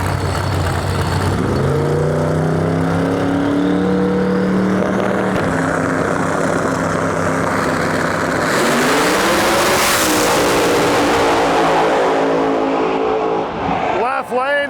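A Camaro drag car blasts down the strip at around 182 mph, its engine screaming loud and steady with rising pitch sweeps as another racer passes, while an announcer calls the action throughout.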